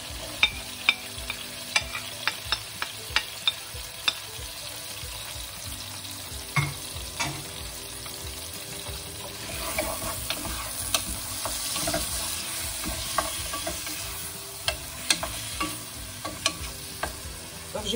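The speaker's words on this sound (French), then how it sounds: "Donc je vais juste saisir un petit peu la viande et après, je vais tout mettre d'un seul coup." Meat searing in a pot with onion and garlic for Moroccan-style lentils gives a steady close sizzle, broken throughout by sharp scraping and clinking stirring strokes.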